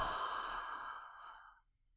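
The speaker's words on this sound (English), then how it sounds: "you take a long, slow inhale through your nose and let the breath out of your mouth with an audible" A slow, audible breath out through the mouth after a long inhale, a soft airy sigh that fades over about a second and a half, close and quiet with no talk.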